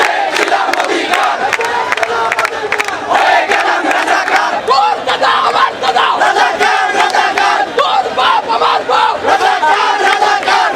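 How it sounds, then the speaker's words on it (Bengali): A crowd of student protesters chanting slogans in unison at a night demonstration in Bangladesh against job quotas, loud and continuous rhythmic shouting from many voices, near and sustained throughout. "নিজেদের রাজাকার বলেও স্লোগান দেন তারা।"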